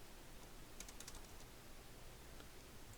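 Typing on a computer keyboard while writing a C program, a quick cluster of faint, light key clicks followed by a few sparse taps under a steady hiss.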